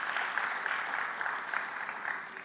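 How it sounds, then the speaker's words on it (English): Continuous, moderately quiet applause from a debate audience honoring the candidates at a Toronto church venue, an even wash of many hands clapping without voices. "give them a round of applause"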